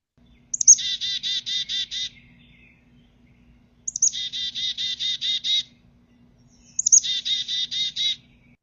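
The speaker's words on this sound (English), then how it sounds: "that's the typical chickadee call" A recorded chickadee gives its typical call three times, each a sharp high note followed by a rapid buzzy series of notes, evenly spaced, clear and alone against a quiet background.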